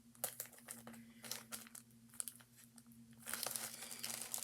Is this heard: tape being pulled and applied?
yes